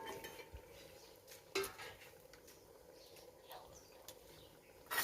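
Potatoes and eggplant are stirred in a pot while being cooked village style. The sound is very faint and distant, with scattered scraping and clinking strokes of a utensil against the pot and a slight sizzle beneath.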